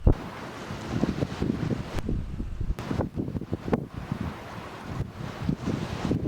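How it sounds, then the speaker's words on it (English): Strong gusting wind, over 40 mph, buffets the microphone at a harbour entrance on the coast, coming in loud uneven bursts with brief lulls between and no voices. "There's a fair breeze away in the day."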